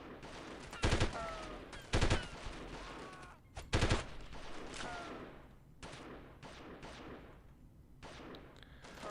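Scattered gunfire in Delta Force (1998): three loud, sharp shots at roughly one-second gaps, then fainter, more distant pops spread through the rest, over low background noise.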